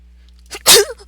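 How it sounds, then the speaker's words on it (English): A single sudden sneeze bursts out close and loud after a brief intake of breath, standing alone against quiet room hum with a faint tail afterward. "It was a sneeze."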